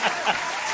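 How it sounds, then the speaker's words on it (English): A studio audience claps for a divorce lawyer guest on a talk show, a brief burst of applause. "please get a round of applause for the divorce lawyer of Atlanta, Georgia"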